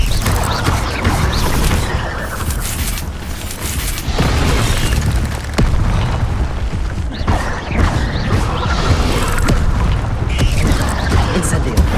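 Incendio fire spell effects in the video game Hogwarts Legacy burst as dense, loud crackling blasts and booms, layered with creaking mechanical clatter in continuous combat.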